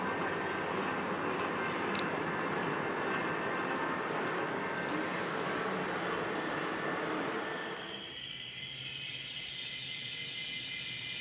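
A locomotive in a train game rumbles steadily at a moderate distance, its broad mechanical drone fading partly near the end of the stretch.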